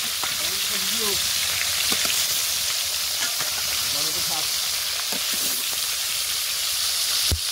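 Hot oil sizzles and spits loudly and continuously as fish fries, with a few faint voices in the background.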